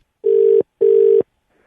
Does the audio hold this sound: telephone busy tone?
yes